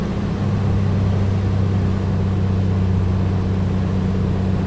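Steady, loud drone of a Piper Comanche 250's engine throttled back to 1900 RPM in cruise in Microsoft Flight Simulator, a constant low hum that continues unchanged throughout.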